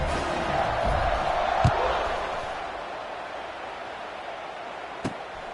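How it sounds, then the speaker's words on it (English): Broad, steady roar of a stadium crowd at a WKU vs Sam Houston college football game as the kickoff approaches, swelling early then holding at a distant wash with a couple of sharp knocks. "this crowd now ready to get behind them"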